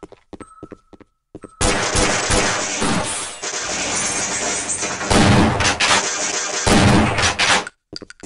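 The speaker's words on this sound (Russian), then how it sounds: "Я так и думал, что эта коробка взрывается." A crate blowing up in Half-Life on the hard difficulty setting, in an office complex: a sudden loud, sustained blast with crashing debris and gunfire-like crackle lasting several seconds before cutting off.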